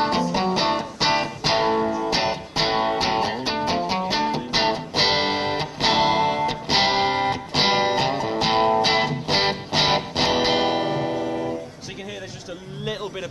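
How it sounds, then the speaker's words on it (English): Yamaha amp modeling with gain at half and master full, power amp tubes overdriving into slight breakup: a loud electric guitar passage of choppy chords and single-note runs, lightly crunchy, ending in a fading ring with a voice starting at the close. "A little bit of breakup in there, just a slight bit of overdrive, which is actually what you get with overdriving the power amp tubes"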